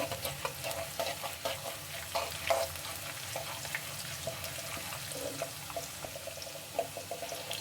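Chana dal and green chillies fry in oil over a medium flame, giving a continuous, moderately quiet sizzle with soft crackles and occasional stirring scrapes.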